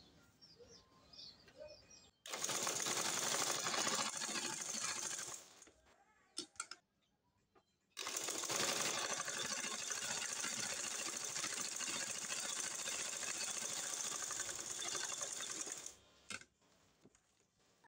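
A sewing machine runs in two sustained bursts while stitching hijab cloth, its steady whirring close and fairly loud, separated by a short pause with small handling clicks.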